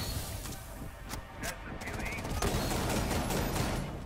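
Rapid gunfire in Rainbow Six Siege, automatic bursts crackling throughout alongside sharp single shots and some impact noise, loud and continuous, with players talking over the shooting.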